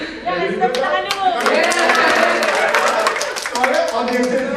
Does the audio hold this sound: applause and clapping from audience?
yes